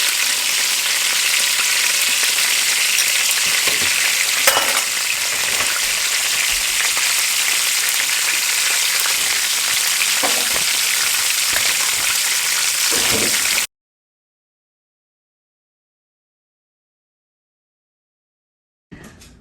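Food frying in oil in a home kitchen pan, a continuous bright sizzle with occasional crackles and pops that runs steadily and then cuts off, followed by a brief return of sound near the end.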